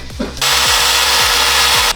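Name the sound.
power drill drilling holes with a 3/8 bit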